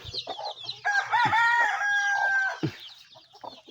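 Backyard bantam chickens cluck and call close by, including a loud drawn-out crowing or cackling call in the middle, with scattered shorter clucks around it and no talk.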